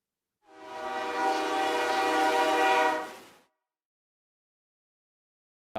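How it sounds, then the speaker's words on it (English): A recorded train sound clip is played: a train passes with a long, steady horn blast lasting about three seconds, loud and alone, then fading into silence. "I'm trying to see that train."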